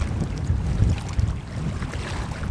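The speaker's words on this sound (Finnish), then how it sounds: "Tuuli vaan yltyy." Strong wind buffets the microphone in low, gusty rumbles, with a faint wash of water in the background, on a lakeshore in northern Norway.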